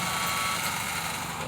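A car engine fitted with a 306 conversion and a newly installed 2100 carburetor turns over with the key, giving a steady, loud, close mechanical drone with faint low pulsing throughout.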